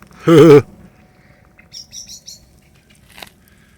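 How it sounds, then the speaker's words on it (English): A short, loud fluting blackbird call rings out first, then a few fainter, higher chirps follow in a quiet, open, misty setting on a countryside trail. "Blackbirds."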